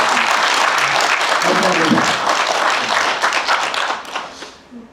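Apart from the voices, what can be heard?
audience applause for the photographer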